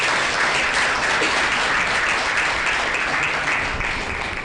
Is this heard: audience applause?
yes